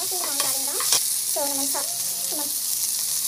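Onions and green chilies sauté in a pan with a steady close sizzle and occasional stirring scrapes, while someone talks over it.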